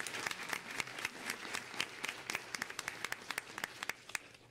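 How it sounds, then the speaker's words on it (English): School board meeting audience applauding a student group, a crowd's scattered claps merging into a steady round of applause with sharper individual hand claps standing out near the end. "How about a round of applause for them?"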